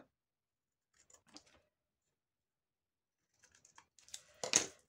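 Scissors trim excess paper from a handmade vintage card: a few faint, quiet snips and crinkles, separated by near silence, ending in a brief louder cut.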